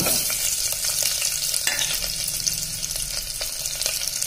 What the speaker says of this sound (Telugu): ఫస్ట్ ఆనియన్స్, పచ్చిమిర్చి వేయించుకుంటాను